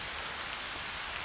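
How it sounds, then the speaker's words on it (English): Steady rain falling on a rainy morning at a swamp, a soft, even hiss of drops with no other sounds. "It's a rainy morning"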